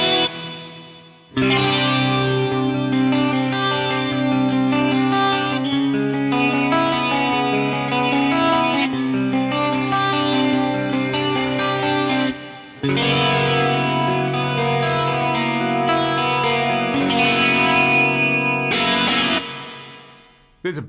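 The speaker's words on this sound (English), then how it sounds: "this is just the reverb and the symphonic effect" An electric guitar runs through a Yamaha Magicstomp with reverb and symphonic effects, playing sustained shimmering chords and notes in two long phrases with lush, swirling tails and a brief pause between them, loud and alone.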